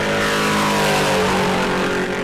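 Green number 59X pro truck tearing around a qualifying lap at New Smyrna, a loud, steady engine roar holding high revs throughout with no break.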